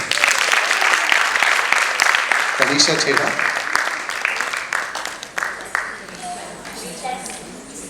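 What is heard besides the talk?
audience clapping for dancers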